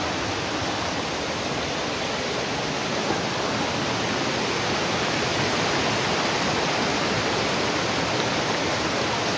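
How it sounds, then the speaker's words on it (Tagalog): Loud, steady rushing water fills the scene in a video game, a constant broadband roar that never lets up and drowns out any other detail. "sobrang lakas talaga ng boses ng tubig"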